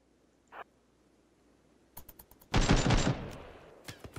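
Gunfire from a new gun in the Rimworld video game: a few scattered clicks, then a brief dense burst of rapid shots and a couple of trailing pops, fairly quiet overall.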